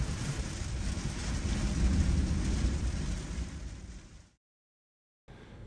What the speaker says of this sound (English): we just kind of hung out and enjoyed the sound of the rain and snow coming down